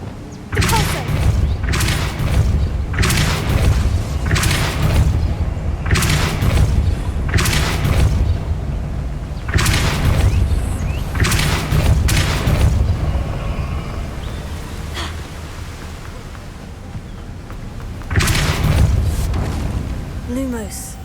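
Repeated Depulso spell blasts in Hogwarts Legacy fire as booming, thudding bursts, about a dozen loud hits spread over a steady rumbling game soundscape, with short gaps between some of them.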